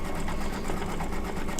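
An embroidery sewing machine fitted with a new sharp needle stitches out a design, a loud, steady rapid mechanical whir and chatter running continuously nearby with no voices.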